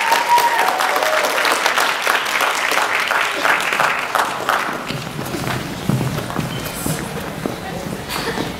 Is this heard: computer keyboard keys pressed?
no